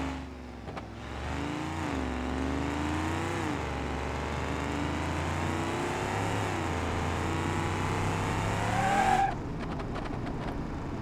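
A Moonhawk car drives in the BeamNG.drive video game, its engine droning loudly and pitch climbing through several gear changes with sharp shifts, a tire squeal near the end, then the engine settling back.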